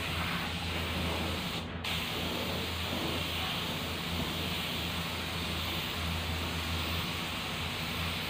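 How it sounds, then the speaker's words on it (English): A spray gun sprays primer for a granite-effect finish, giving a loud, continuous broadband hiss that holds steady throughout with one brief cutoff. "Spray na tayo. Primer ko muna to."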